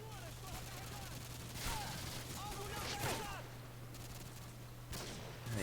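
Modern Warfare 2 multiplayer gunfire on the Rundown map in a Domination match: several separate bursts of rifle shots, moderately close and spaced a second or so apart, over a low steady background hum.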